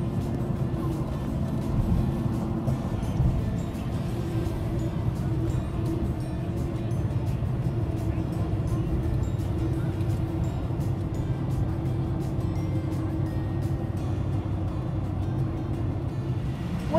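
Steady engine rumble and road noise from inside a moving car on the way to a camping trip, continuous and fairly loud, with no talking.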